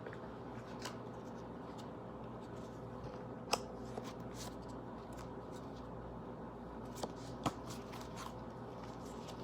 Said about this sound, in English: I'm going to pull some cards right quick from my Twin Flame Oracle manifestation deck right quick